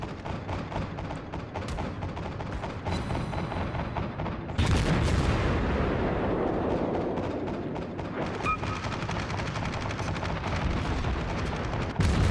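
Naval guns fire in World of Warships from a ship like the Omaha cruiser, with a dense, continuous rumble of repeated booming salvos and blasts near and loud throughout, swelling heavier midway.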